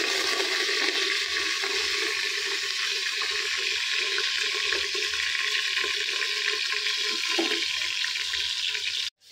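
Grated carrots sizzling in hot, lightly smoking ghee for carrot halwa (gajar ka halwa) in a home kitchen, a steady loud hiss and crackle throughout that cuts off at the end.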